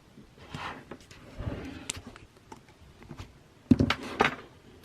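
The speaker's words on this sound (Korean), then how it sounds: "그러면 이 비닐을 한번 뜯어보도록 할게요" Plastic wrap being torn off an 11-inch, 256GB Wi-Fi iPad Pro (4th generation) box: quiet handling rustle, then two sharp, loud crinkling tears close up near the end.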